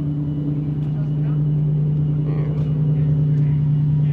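At a car meet, a drift car's engine idles with a steady, loud low rumble throughout, while voices and crowd noise sit faintly in the background.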